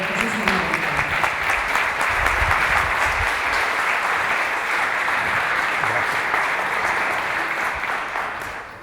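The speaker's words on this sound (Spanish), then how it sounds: "fuerte aplauso, por favor," An audience claps loudly and steadily at a conference on educational freedom. The thick, continuous applause holds for the whole stretch and fades slightly at the end, with no voices on top.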